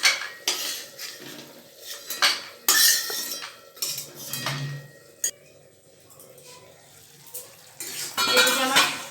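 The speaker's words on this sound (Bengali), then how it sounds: "বড়িগুলো ভাজা হয়ে গেছে, এবার এগুলোকে একটা প্লেটে তুলে নিচ্ছি" Fried lentil dumplings are lifted from a pan onto a plate, with scattered metallic clinks and scrapes of a utensil against cookware and dishes, close and moderately loud, with no talking.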